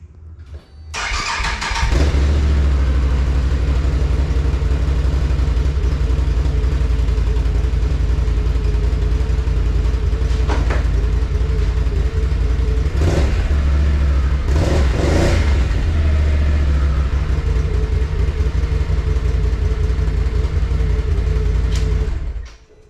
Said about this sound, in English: we'll do the quick sound clip with the stock exhaust